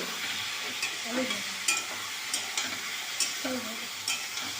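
Chicken with turmeric and fried potatoes is stir-fried in a pan, giving a soft, steady sizzle broken by light clinks and scrapes of a spoon against the pan.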